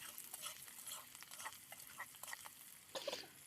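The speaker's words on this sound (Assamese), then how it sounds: "আৰু এয়া জ্বালা পিঁয়াজ কাটি লোৱা দি দিলোঁ আৰু অকণমান সময় লৰাই মানে ৰঙচুৱা হ'লৈকে ভাজিম" Chopped onions fry in hot oil under a faint sizzle, while a utensil stirs and scrapes them in short, uneven strokes. A slightly louder burst of stirring comes near the end.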